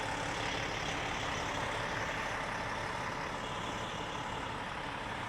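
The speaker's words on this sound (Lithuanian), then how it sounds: "forkliftai iškrauna" Heavy machinery rumbles steadily at a car terminal in Miami as forklifts unload cars from a truck trailer, a dense, constant broadband drone with no clear breaks and no talk.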